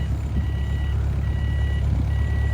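A Wolf Mini 780H wheel loader carrying a 2,400-pound front load drives slowly, its loud steady engine rumble under a continuous repeating reversing beep, close by and with no talk.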